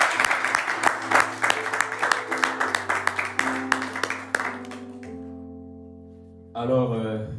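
A church congregation in a large church applauds: dense, steady clapping over sustained keyboard chords that thins out after about five seconds, then a voice comes in over the held chords.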